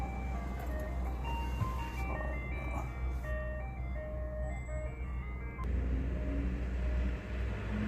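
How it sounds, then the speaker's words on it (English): An ice cream truck passes by outside, its looping chime melody playing over a rumbling vehicle engine at moderate distance, the jingle cutting off partway as the noise continues. "The ice cream truck was passing by."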